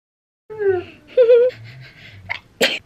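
A single sharp sneeze bursts out near the end, after a few seconds of voices and laughter-like vocal sounds.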